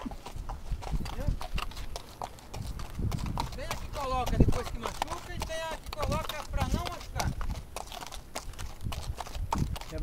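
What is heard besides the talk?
horse hooves clip-clopping during a horse ride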